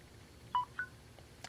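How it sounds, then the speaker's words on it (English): Two short electronic beeps from a 25,800mAh USB power bank as it starts charging a phone, quiet and close, the second slightly higher in pitch, with no talk. "we heard the tone that it's charging"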